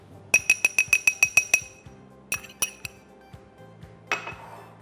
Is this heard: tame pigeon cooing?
no